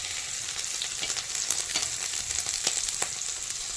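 Mushrooms sizzle in a hot pan with a soft, steady crackle that is fairly quiet and continuous, with no voices.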